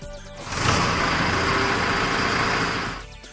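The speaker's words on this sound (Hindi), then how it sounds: "स्प्रिंग फोर्स पर चाबी आगे घुमाने से इंजन चलने लगेगा" A Mahindra engine, started with the key, catches after a brief crank and settles into a loud, steady mid-pitched running drone close by, holding for a few seconds before easing off. No one speaks.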